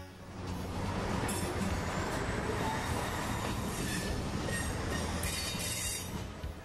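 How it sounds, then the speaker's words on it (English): A Lego model train runs steadily on a layout, its wheels rumbling and clacking over the track with faint squeals, heard close and continuous throughout. "Some of the trains he's running today include a BNSF freight train."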